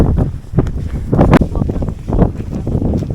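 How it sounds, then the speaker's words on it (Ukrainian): Wind on the Vereda do Risco trail in Madeira: gusty, buffeting blasts hitting the microphone up close, rising and falling in loud rumbling surges. "вітер завиває"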